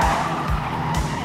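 A car skids in a 1987 Beverly Hills Cop 2 chase scene. The loud, continuous tire-and-engine roar surges in several short bursts across a little over a second.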